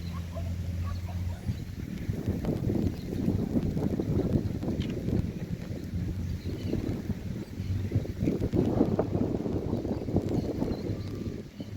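Wind gusts outdoors during rain on a fishing outing, buffeting the microphone in low, rumbling surges that rise and fall over several seconds.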